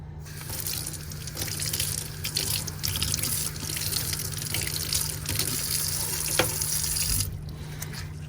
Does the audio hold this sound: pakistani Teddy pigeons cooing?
no